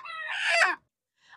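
A backyard hen lets out one loud, close, drawn-out harmonic squawking cluck lasting under a second. After a short silence, a fainter call begins at the end.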